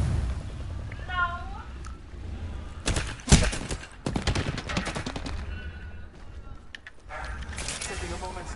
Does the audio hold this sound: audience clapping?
no